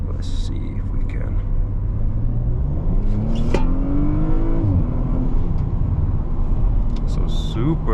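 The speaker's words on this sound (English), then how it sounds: "you can still hear the exhaust. So the valves are open and it is high revving at this point" A stock, fully original Audi RS5 with its exhaust valves open, revving high: a loud, steady engine roar with a rising and falling pitch sweep in the middle, heard close up, with occasional speech over it.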